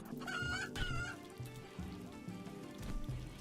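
Chickens cluck and squawk in the video game RimWorld while being attacked, with a couple of sharp higher calls early on over a low droning background.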